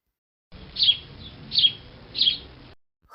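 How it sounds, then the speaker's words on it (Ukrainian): A sparrow gives three bright, high chirps, evenly spaced and close by, with nothing else around them. "Так говорить горобчик. Цінь цвірінь, цінь цвірінь."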